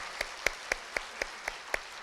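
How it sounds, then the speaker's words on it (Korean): A church congregation at a youth and university student retreat's closing worship service claps in a slow, even rhythm, each clap sharp and distinct, heard at moderate distance and fairly soft. "우리 하나님께 감사의 박수를 드리도록 하겠습니다"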